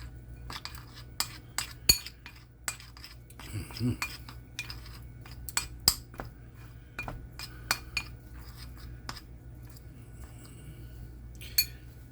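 A spoon scrapes and clinks against a pan while pomegranate walnut chicken is stirred, giving a string of irregular metallic taps and clatters at close range over a low steady background hum.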